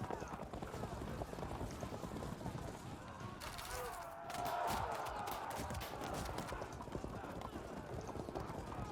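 Cavalry units in the medieval strategy game Field of Glory Medieval advance with a steady clatter of hooves and a low rumble of many horses, with a louder surge partway through under ongoing game sounds.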